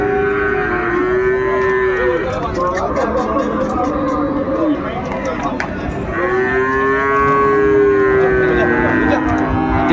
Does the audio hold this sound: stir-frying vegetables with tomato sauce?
no